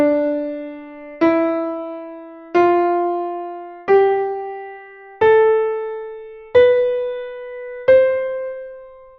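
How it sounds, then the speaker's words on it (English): A musical scale in C clef on the fourth line (tenor clef), seven clear sustained notes struck one after another at a steady pace, each pitch stepping upward and ringing out alone before decaying. "Here's the sound of the scale."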